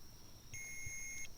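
A REM pod ghost-hunting device on a haunted Virginia battlefield beeps with a steady, bright electronic tone that holds for under a second against a quiet, low background rumble.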